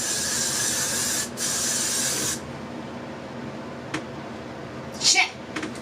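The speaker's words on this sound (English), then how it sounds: "And then you want to spray." Hairspray hisses onto freshly twisted curls in a loud continuous blast, breaks briefly, then sprays again before stopping, followed by a few small clicks and handling noises.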